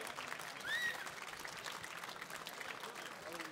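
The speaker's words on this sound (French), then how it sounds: "Alors là, on l'applaudit" An audience at a fishing competition prize-giving claps for a winner, steady indoor applause at moderate distance with a short whistle-like tone near the start and faint voices underneath.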